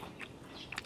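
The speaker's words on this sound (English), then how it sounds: "So crunchy. The skin of the quail." Crunchy roasted quail skin being bitten and chewed, a few faint close crisp crunches alone with no talk.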